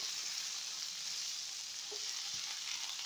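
Green beans and potatoes sizzle and crackle steadily as they are stirred in a hot pan for an Indian-style dry vegetable dish, a dense bright frying hiss with faint scraping touches.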